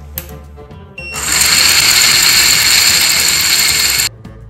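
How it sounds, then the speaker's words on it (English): A motor-driven gearbox in a homemade mechanical advent calendar whirs steadily and loudly for about three seconds. It starts after a brief click and cuts off sharply, with no talking. "Now I can put gears on any layer and step down smoothly from motor speed to something usable."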